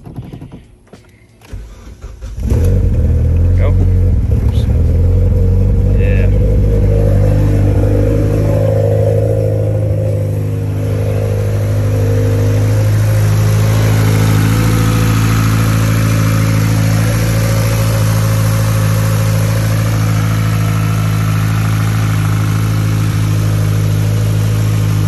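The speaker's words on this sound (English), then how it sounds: "So start the car." A 900 WHP car fires up after a moment of quiet, then settles into a loud, steady, close idle with a deep rumble that holds for the rest of the clip.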